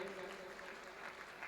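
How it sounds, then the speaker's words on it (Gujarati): Quiet, continuous clapping from an audience at an award ceremony, heard at a distance as a soft, even wash, with a voice speaking over it. "આપણે હજી તાળીઓનો ગડગડાટ શરૂ રાખીએ"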